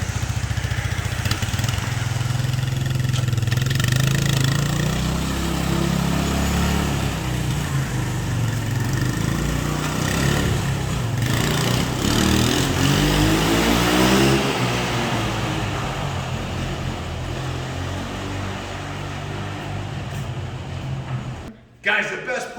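Engine of a 1986 Honda ATC125M three-wheeler ridden inside a large building, a loud continuous motor drone with shifting revs throughout, trailing off near the end.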